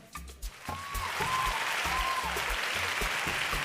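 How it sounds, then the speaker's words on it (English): Audience applause at a conference closing, sustained even clapping from a crowd lasting several seconds after a few low thumps at the start, with faint tones drifting over it. "a round of applause for our convener, Tega Onojaife"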